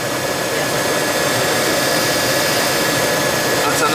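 A noisy Ruud gas furnace, about 26 years old, runs with a loud, steady broadband whooshing roar that holds evenly without pause, heard up close.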